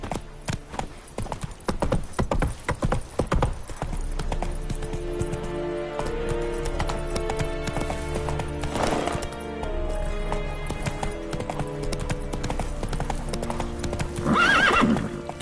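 In The Witcher 3: Wild Hunt, a horse's hooves clop in a steady rhythmic gait, loud and close, with a distinct neigh near the end.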